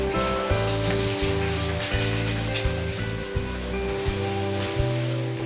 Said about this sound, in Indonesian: Yang pertama kita panaskan minyak, nggak usah banyak-banyak. Terus kita akan orak-arik dulu telurnya.